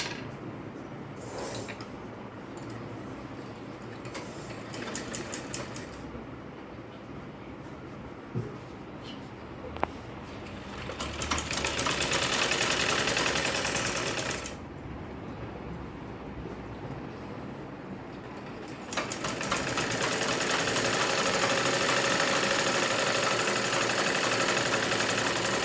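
A sewing machine runs stitching a straight seam on a blouse, its steady mechanical whir surging in two longer sustained runs between quieter, intermittent passages.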